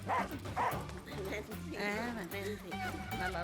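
A dog barks and yips several times in a film scene set at a house of mourning, with people talking over and around the barks.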